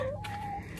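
Chickens clucking and calling close by in a short burst, with no talk.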